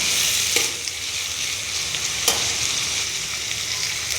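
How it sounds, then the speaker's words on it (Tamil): Steady sizzling and crackling of chopped beans sautéing in hot oil, with a couple of sharp stirring clinks, close and continuous. "பீன்ஸ் சேர்த்து லேசாக வதக்கணும்."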